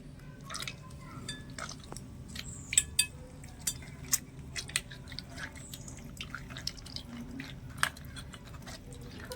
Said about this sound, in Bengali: ছাকনার মধ্যে এই আমটা নিয়ে এভাবে করে ঘষে ঘষে আমের যে রস বা একটা পাল্প আছে পাল্পটা আমি বের করে নেব